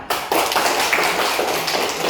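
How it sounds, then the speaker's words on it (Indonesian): A junior high science class applauds together, a dense and loud burst of many hands clapping that starts abruptly and keeps going evenly for about two seconds. "Tepuk tangan"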